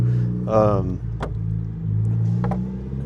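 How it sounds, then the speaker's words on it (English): A loud sporty car passes by nearby, its engine rumble swelling and fading over about three seconds while someone talks over it. "had a rice rocket driving by"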